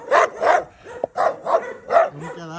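A dog barks outdoors in a series of about five loud, close barks spaced roughly evenly, followed by a brief whine at the end, with no talking.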